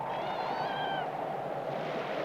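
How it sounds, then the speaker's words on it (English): A kitten, a gift from a trapper at a snowbound northern cabin in winter, gives one short wavering meow over a steady background hum. "Monotony is dispelled by the arrival of Spunky the kitten, a gift from an Indian trapper"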